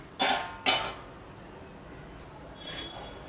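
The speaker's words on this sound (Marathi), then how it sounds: "आता आपण ह्यावरती झाकण ठेवूया" Two quick metallic clanks as a lid is set on a pan while cooking amboli, the second close after the first, then a quiet kitchen and a faint clink near the end.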